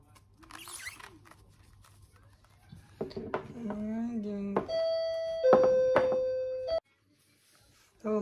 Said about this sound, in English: So, may nag-doorbell.